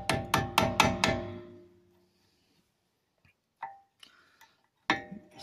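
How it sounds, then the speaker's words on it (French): A hammer strikes a small retaining wedge into a brake caliper on a 1990 Peugeot 309 GTI during a brake job: five quick ringing metallic taps in a row, then a pause and a few isolated knocks, close and sharp. "je le rentre au marteau"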